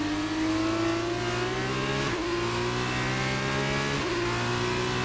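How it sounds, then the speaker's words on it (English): Open-wheel race cars in a sim-racing F2 sprint series at Imola roar steadily at high revs, the engine pitch climbing through the gears with two sharp shift drops, loud and close with no talk. "big rev out there from Gers"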